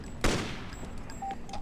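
A single sharp gunshot from a weapon in Freedom Fighters cracks out near the start and rings into a fading tail, followed by faint scattered background noise.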